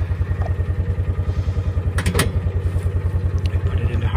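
A Kawasaki Mule SX fuel-injected utility vehicle idles steadily close by, its engine making a low, even pulsing throb with a faint clatter over the top.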